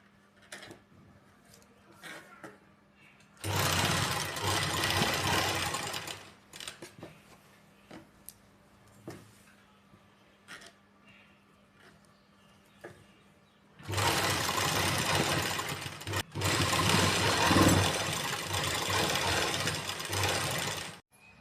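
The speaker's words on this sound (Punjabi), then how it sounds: "ਉੱਤਲੇ ਪਾਸੇ ਲੈਸ ਨੂੰ ਇਸ ਤਰ੍ਹਾਂ ਸਿੱਧੀ ਕਰਕੇ ਤੇ ਸਿਉਣ ਲਾਈ ਜਾਣਾ" A sewing machine stitches lace onto a dupatta in two long, loud, steady whirring runs of several seconds each, separated by a quieter stretch of small clicks and handling noises.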